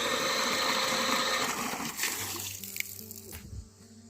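A motor water pump running in a garden, loud gushing and splashing water at first, then easing into a steady mechanical hum that fades toward the end.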